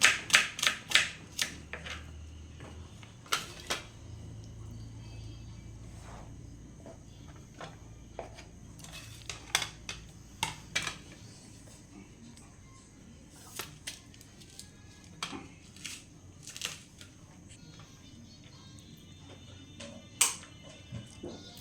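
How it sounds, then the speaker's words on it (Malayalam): A knife chops onion, kanthari chillies and green chillies in a home kitchen, making quiet, irregular taps and clicks in short bursts with pauses between them, and no one speaks. "നമുക്ക് ഇതെല്ലാം കൂടെ ഒന്ന് അരിഞ്ഞെടുക്കാം"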